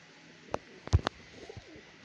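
A Kasuri pigeon coos softly and briefly, a few low throaty notes among sharp clicks and faint background hum.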